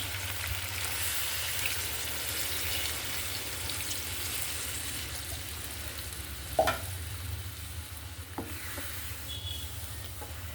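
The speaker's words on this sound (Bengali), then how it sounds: "এখন আমি এখানে গরম পানি অ্যাড করব।" Chicken curry sizzles steadily in a hot pan as hot water goes in, a constant close frying hiss with a sharp clatter partway through and a softer knock near the end.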